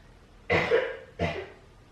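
A person coughs twice, close and fairly loud, each a harsh, chesty burst with a short gap between, with no other sounds around.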